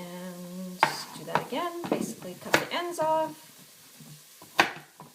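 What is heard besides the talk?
onions sizzling in a pan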